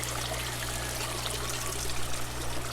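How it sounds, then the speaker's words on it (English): Water trickles steadily from a belt siphon in a backyard aquaponics setup with slowed flow, a continuous close splashing and dribbling with a low hum underneath. "I slowed down my water flow just so I don't drown my Pak Choi"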